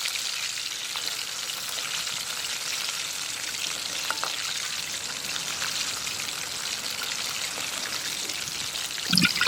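Popcorn chicken deep frying in hot oil, a steady, dense sizzle and crackle that holds at an even level throughout, with a brief clatter near the end.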